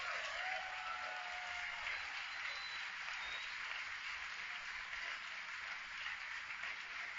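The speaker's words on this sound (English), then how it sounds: "You can hear the applause behind me" Applause rises in a rocket launch control room during the Arabsat 6A launch as it passes maximum dynamic pressure, a faint, steady wash of distant clapping under a hiss-like background.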